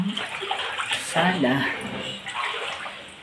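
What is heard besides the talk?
wading through floodwater inside a flooded house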